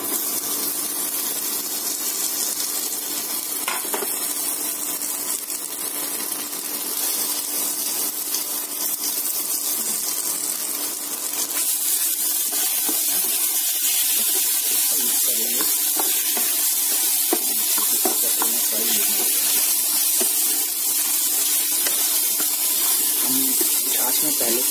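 Taro (arbi) tipped into frying masala in a pot for a Himachali curry sets off a loud, steady sizzling hiss that continues for the whole stretch, growing denser partway through.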